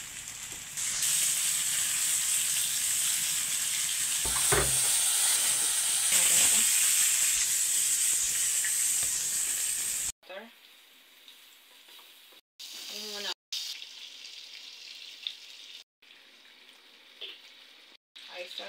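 Chicken pieces sizzle loudly in a hot pan as a steady frying hiss for about ten seconds, then the sound drops away to quieter intermittent kitchen noise with brief pauses.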